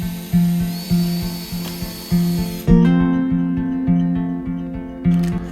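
A power drill drives screws into the window channel of a van, giving a steady, repeating pattern of short whirring bursts close by, each burst breaking off cleanly before the next.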